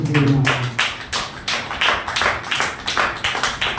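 A church congregation applauding loudly, dense rhythmic clapping that rises in quick bursts and continues close and strong, with no speech.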